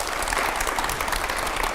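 An audience gives a short burst of applause at a live televised discussion, a dense steady patter of many hands that fills the whole moment at an even loudness.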